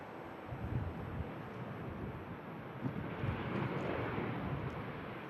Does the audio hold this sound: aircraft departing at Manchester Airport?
yes